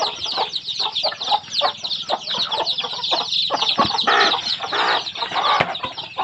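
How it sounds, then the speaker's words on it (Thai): Chickens and small chicks clucking and peeping close by, a busy mix of short repeated calls and chirps with occasional wing flaps, no speech. "นี่ก็ลูกไก่น้อย ได้ทั้งไก่น้อยไก่ไก่ใหญ่นะ ไก่หมดเลย ไก่เล็ก"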